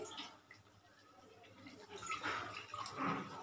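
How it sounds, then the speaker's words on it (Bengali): A bowl of water poured into a pan on a gas stove splashes and trickles softly, quiet at first and then swelling into a fuller gush of liquid near the end, with no voices. "এখানে আমি 1 বাটি জল দিয়ে দিচ্ছি"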